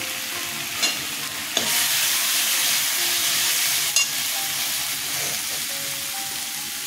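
Onion, ginger and chili sizzle loudly in hot oil for a parse fish curry, with steady frying hiss and occasional scraping stirs close by.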